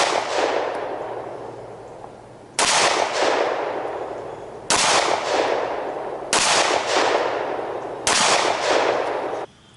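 Five separate shots from a Glock 19 pistol firing Winchester 9mm FMJ ammunition on a range, each a loud sharp crack with a long ringing tail, spaced roughly two seconds apart.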